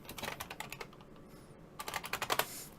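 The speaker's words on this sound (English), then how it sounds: "Let me just type in 3M disposable." Rapid keystrokes on a computer keyboard entering a search for a 3M disposable respirator, two close bursts of clicky typing separated by a brief pause, with no talk.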